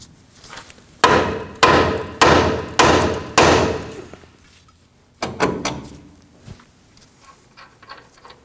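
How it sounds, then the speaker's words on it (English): Heavy metallic hammer blows ring out, five in a steady rhythm, then a pause and a faster cluster of lighter strikes, loud and close, as a hammer strikes a 2009-2014 Ford F-150 front upper control arm to free it from the steering knuckle. "To separate the upper control arm from the knuckle, we'll go ahead and strike it with a hammer."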